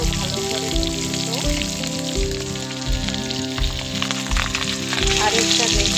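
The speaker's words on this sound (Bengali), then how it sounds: "মাছটাকে তেলে একটু ভালোভাবে ভেজে নিব।" Pangas fish fries in hot oil in a kadai, giving a steady, close, dense sizzle and crackle that runs without a break, loud and continuous.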